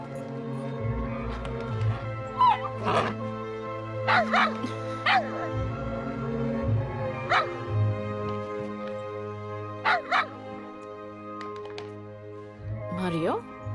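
A dog in a Hindi-dubbed movie barks and yips repeatedly in short, close bursts, spaced a second or two apart, over a steady tonal soundtrack.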